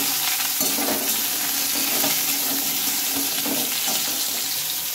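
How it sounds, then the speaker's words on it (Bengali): Papaya pieces are stirred into a hot pan already frying pointed gourd, giving a loud, continuous close-up sizzle with rustling stirring noise all the way through. "পেঁপে দিয়ে একটু নেড়ে চেড়ে নেব"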